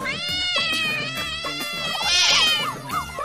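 A cat meows repeatedly while being rescued from a pond, with loud, drawn-out, wavering cries close by and a rising, strained call near the end.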